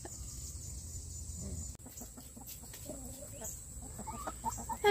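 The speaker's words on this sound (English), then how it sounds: "then we'll show you feeding the chickens" Backyard chickens cluck and mutter close by during summertime feeding, with a few louder squawks rising over a steady outdoor background.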